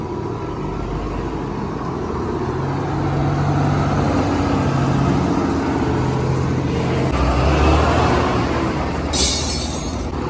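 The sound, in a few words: heavy traffic on the Rathoa Haryam bridge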